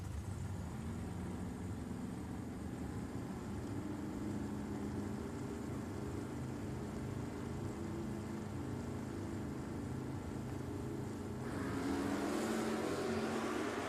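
Drag racing at Richmond Dragway, where an '84 Camaro and a Cuda race: a steady, loud engine roar from the cars that swells toward the end, with no talking over it.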